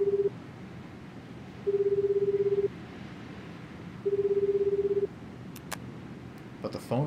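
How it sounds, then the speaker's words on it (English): A phone rings repeatedly in the 428 Shibuya Scramble video game, three evenly spaced ringback tones over a murmur of background noise, followed by a few faint clicks. "But the phone rang several times and nobody answered."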